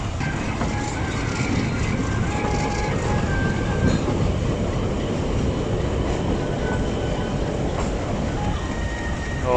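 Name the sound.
Thall Express train running from Rawalpindi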